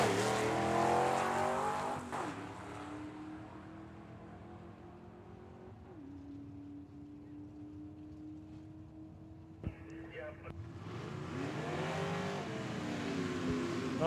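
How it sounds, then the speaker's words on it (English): At Tucson Dragway, a station wagon and a Corvette roar off the line in a drag race. The loud engines fade into the distance, then climb to a second surge of rising revs, with no voices over them. "In the station wagon here on the left-hand side, right-hand side, we have a Corvette"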